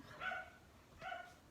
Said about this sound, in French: Désolée si vous entendez les chiens, mais ils sont en train...